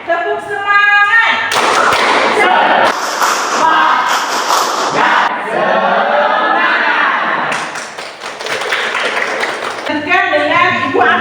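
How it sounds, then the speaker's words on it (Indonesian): A school class claps a rhythmic spirit clap together in a classroom: loud, patterned bursts of group clapping mixed with chanting voices, stopping and starting in sections. "Oke, tepuk semangat."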